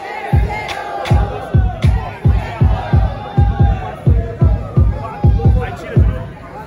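Loud crowd roaring and cheering in rhythmic bursts at a Brazilian rap battle, Batalha da Leste, with repeated swells of noise over a steady pounding pulse and shouting voices mixed in.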